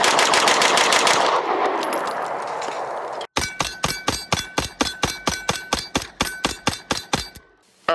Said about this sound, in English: I also like to do this to push the gun a little faster rate of fire to see if any malfunctions can be induced.